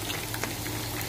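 Crushed ginger sizzling in hot ghee as a tadka for masoor rice, a dense, even crackle and hiss running steadily through the short stretch, close and alone.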